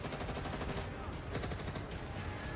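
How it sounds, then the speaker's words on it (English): Heavy automatic gunfire rattles through a tense battle scene in the Girls' Frontline mobile game, dense and continuous bursts filling the whole stretch, loud and close, with no pauses between shots. "The sound of heavy gunfire comes over the transmission once again, and this time it's getting closer to the dolls."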